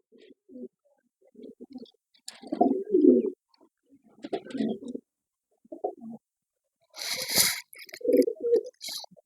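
Pigeons coo in soft, low, throaty bursts with pauses between, close by, with a brief flurry of rustling wing flaps partway through.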